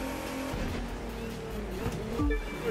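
Noble M500 sports car racing in The Crew 2, a steady loud engine drone throughout with a brief higher tire squeal or rev change near the end.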